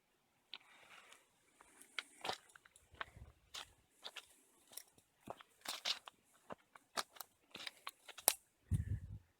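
A thin tree branch is cut off near a wall, giving a run of close, irregular crunching snips and crackles with short pauses between them, ending in a heavier rustle.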